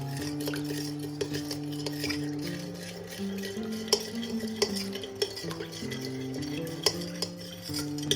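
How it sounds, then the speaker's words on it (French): A spoon stirs lemon jelly powder in a bowl to dissolve it, giving a steady close scraping swirl with occasional light clinks against the sides, alongside faint background music. "On mélange bien pour que ça se dissolve"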